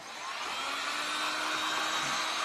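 A handheld dryer blowing on freshly painted wood of a gnome or fairy door, giving a steady, close, high-pitched whirring hum that holds constant throughout without voices.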